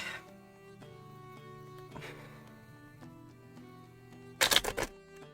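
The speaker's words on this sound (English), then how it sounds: "And then we're going to shuffle a deck." A deck of cards is riffle shuffled once near the end, a short, crisp fluttering burst over a quiet background with a soft steady hum.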